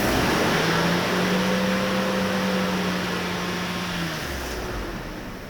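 A Mercedes S600 coupe engine revs up from idle, a steady loud drone with rising tonal whine that holds for about four seconds before dropping away.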